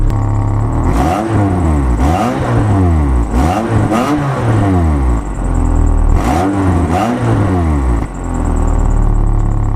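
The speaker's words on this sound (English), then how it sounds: "let's get an exhaust clip from back here" A 1997 Mitsubishi Eclipse Spyder's exhaust roars close by as the engine is revved repeatedly, rising and falling in pitch with each throttle blip.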